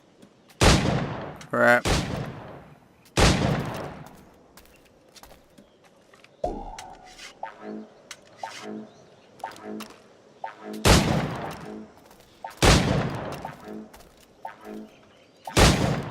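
Loud, sharp gunshots fired at targets in the pirate game Assassin's Creed IV: Black Flag, a few isolated cracks then a later pair, with footsteps and brief talk in the gaps.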